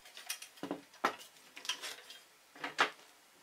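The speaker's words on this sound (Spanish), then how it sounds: "retiro los tornillos, le doy la vuelta a la placa de máquina" Screws being removed and the metal machine plate of a circular saw table flipped over, giving a series of sharp metallic clinks and clatters spread across a few seconds, close and fairly quiet, with no voices.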